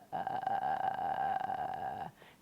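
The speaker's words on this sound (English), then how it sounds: "So a fry sounds like this." A voice makes a low, steady creaky rattle, a sustained vocal fry held for about two seconds before stopping, close and alone.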